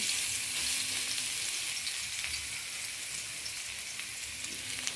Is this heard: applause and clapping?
no